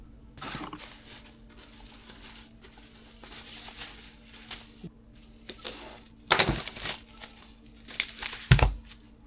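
A product is packed for parcel delivery with minimal packaging, giving crinkling plastic, tearing tape and brisk handling sounds in irregular bursts that grow louder and sharper toward the end.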